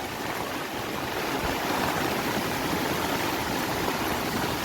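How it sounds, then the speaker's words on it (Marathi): Floodwater rushes and churns steadily after heavy rain, a continuous broad roar of flowing current with no voices. "आणि हा मस्त पाणी वाहून राहिला"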